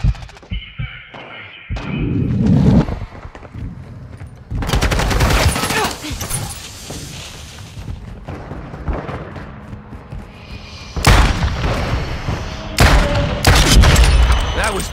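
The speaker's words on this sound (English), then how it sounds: "Toxic smoke grenade!" Chaotic Call of Duty Modern Warfare 2 multiplayer combat: a toxic smoke grenade going off amid bursts of loud gunfire and heavy thuds, with intermittent voice callouts over the action.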